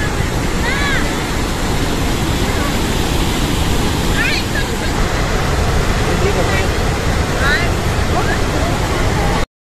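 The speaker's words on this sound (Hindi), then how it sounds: "यहाँ से वहाँ तक पूरा ऐसे पूरा पानी है झरझर झरझर गिरी ही" The Chitrakoot waterfall roars as a broad, steady rush of falling water heard up close, a constant wash with faint high chirps passing briefly over it.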